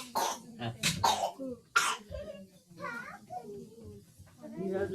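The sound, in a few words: child coughing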